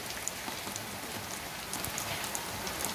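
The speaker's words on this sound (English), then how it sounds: "Oh, it is really raining." Steady rain falls outside near a house with green surroundings, a continuous soft hiss with scattered drops pattering on surfaces throughout, fairly faint and with no one talking.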